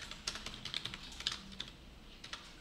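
Computer keyboard typing while writing HTML and CSS code, a steady run of quick, light key clicks with irregular rhythm, close and fairly quiet, with no talking.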